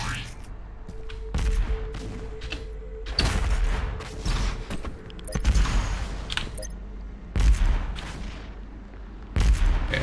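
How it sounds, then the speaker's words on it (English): Repeated heavy booms of cannon fire in Doom Eternal, arriving in irregular bursts over a constant low rumble. "I gotta be careful with those cannons"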